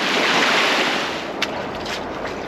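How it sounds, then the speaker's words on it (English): Ocean waves wash against a rocky Hawaiian shore at night, a loud, broad rushing surge with wind buffeting the microphone, easing slightly toward the end. "The waves are very unpredictable."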